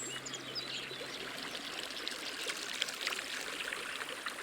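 Thawed spring snowmelt runs as a stream through a high glacial valley, a soft steady trickle and babble of water at low level with small splashing flecks, heard alone.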